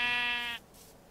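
A sheep in a video game gives one short, nasal bleat that ends abruptly, leaving faint background noise.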